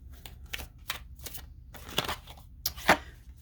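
Tarot cards shuffled by hand: a run of soft, crisp riffling and tapping bursts at uneven intervals, close and fairly quiet, with no talking.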